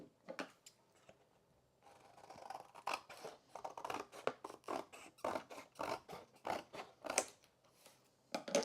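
Scrapbooking paper is snipped with scissors and torn by hand in a quick series of close, crisp cuts and rasping tears, with brief pauses between them and no talking.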